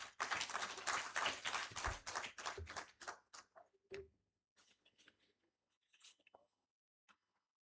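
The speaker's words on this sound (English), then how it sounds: "A huge round of applause for Dr. Shikha Bhargava ma'am" Conference audience applause rings out strongly, dense clapping that tapers off into scattered claps and a few last taps, with faint voices in the background.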